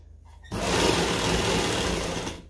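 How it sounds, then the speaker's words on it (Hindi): A sewing machine stitches elastic onto a palazzo, starting after a short quiet moment and then running in a steady, close, continuous whir. "अब हम इस तरह रख के सेटिंग करते हुए इसको सिलाई लगाते जाएंगे"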